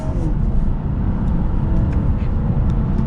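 A 2022 BMW 540i in sport mode pulls forward with a loud, close engine and road roar that holds steady throughout, with no voices over it.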